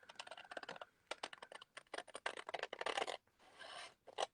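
Scissors cut through craft card along a score line, making a quick series of crisp, close snipping and scraping strokes in uneven bursts, with brief pauses between runs.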